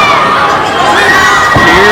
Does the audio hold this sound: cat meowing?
no